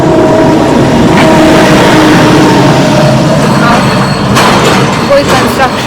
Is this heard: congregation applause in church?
no